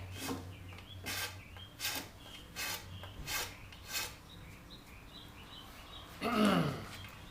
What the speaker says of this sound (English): I use a rat tail file, and I sort of start to cut that way